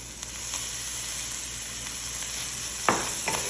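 Fish broth with coriander leaves being mixed in a pot, a steady hissing simmer with a few soft clinks and scrapes from the utensil, one louder near the end.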